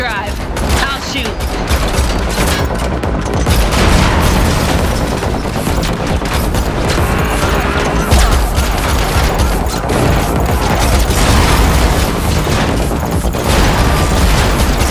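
Heavy gunfire during a car chase in the video game The Matrix Awakens, with sustained rapid bursts and booms over a roaring engine, loud and dense throughout, with voices speaking over the action.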